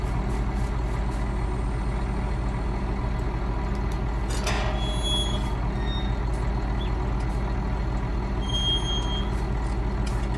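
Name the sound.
vehicle engine running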